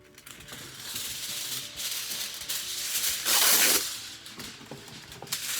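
Aluminum foil is scrunched into a ball, giving close crinkling and crackling that swells to a loud burst of crumpling near the middle and then eases off.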